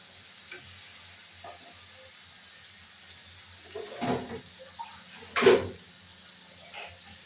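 Water poured into a hot pan of rohu fish and cauliflower curry, giving two loud hissing bursts of steam a second or so apart, then fading to a quiet simmer, with no talking.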